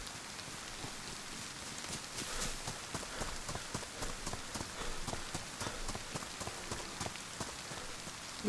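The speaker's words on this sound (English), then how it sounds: "Please stop raining." Steady rain falls in the video game DayZ, a soft, continuous patter of drops with scattered sharper taps striking surfaces, heard alone at low volume.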